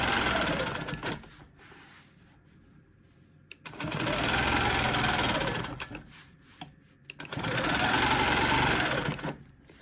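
A sewing machine quilting across a quilt runs in two long, steady bursts of rapid mechanical stitching, close and loud, separated by a quieter pause with small handling clicks.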